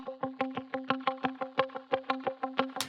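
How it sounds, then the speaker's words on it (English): Electric guitar notes picked in a steady, rapid rhythm, each with a springy, splashy reverb tail, saturated and fairly loud with no voices. "you can hear that how that spring reverb happens on the other side and kind of makes it sound like it's in a room"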